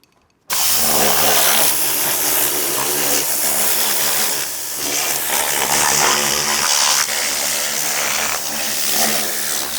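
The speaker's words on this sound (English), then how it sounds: "So I'm going to blow it out with the blowgun now." Compressed air blowgun blasting moisture out of a Chevrolet Equinox engine bay, a loud, steady hiss after a brief quiet start, with slight surges in pressure and no talking.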